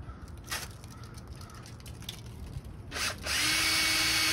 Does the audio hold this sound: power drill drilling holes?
yes